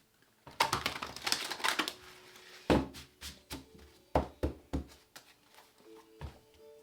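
Tarot cards shuffled by hand in a series of crisp riffling bursts and sharp slapping taps, fairly close and dry, with a brief pause between shuffles.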